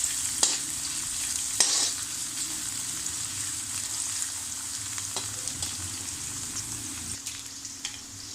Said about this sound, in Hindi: तो जी ऑयल में प्याज मैंने डाल दिए हैं, इनको गोल्डन ब्राउन करूँगी।